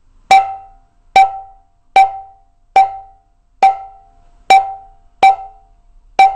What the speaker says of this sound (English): you take your index finger and you hit the center of the siyahi